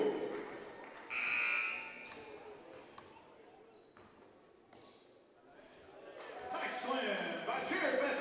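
A buzzer sounds at a high school boys' basketball skills competition in a gym, with ball bounces, crowd noise and an announcer's voice around it. A long tone comes early and more buzzing and cheering come near the end.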